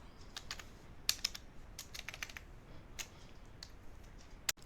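Typing on a computer keyboard while coding an ASP.NET Core project, a quiet run of irregular key clicks with a few sharper taps, close and alone with no talk.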